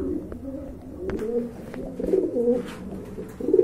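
A pair of homing pigeons coo nearby in soft, repeated throaty rolls, with light rustling and a few faint background bumps.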